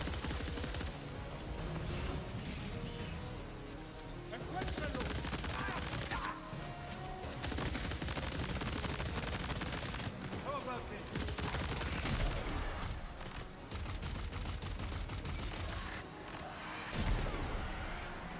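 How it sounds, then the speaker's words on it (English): Assault rifle gunfire in the video game Death Stranding 2, dense bursts of rapid automatic shots with crashing impacts, loud and sustained across the whole stretch with brief pauses between volleys. "Assault rifle."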